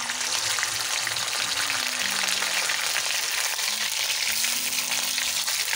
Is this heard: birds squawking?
no